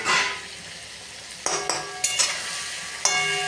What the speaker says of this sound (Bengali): এবার আমি এটা ভালো করে কষিয়ে নেব।